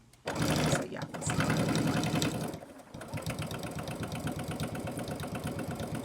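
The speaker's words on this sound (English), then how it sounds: "All I'm doing is top stitching your credit card slots." A sewing machine runs in steady fast bursts while top-stitching the credit card slots of a clutch wallet, with a short pause near the start and a brief stop around three seconds before it resumes.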